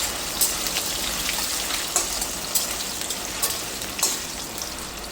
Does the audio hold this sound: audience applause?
no